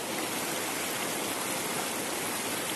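Fast, cold stream water rushes steadily near a traditional gharat water mill in Kotdwara, a loud, continuous hiss and roar filling the scene without pause or voices.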